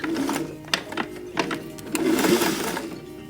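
A sewing machine runs close by in short bursts, stitching under-stitching along a seam of a one-shoulder dress, with a humming motor and rapid needle clatter that starts, stops and restarts.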